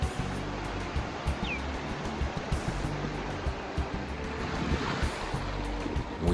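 Ocean waves wash onto the beach at an all-inclusive resort, a steady broad surf roar with low rumbling swells and some wind, continuous and moderately near, with no talk.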